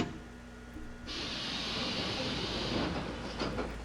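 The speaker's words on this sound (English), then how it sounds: "I love how the platform doors open in concert with the train." Metro train in the Hmmsim Metro game coming to a stop as the platform doors open, a low rumble giving way to a loud, hissing rush of door air that lasts a couple of seconds, with a soft voice present.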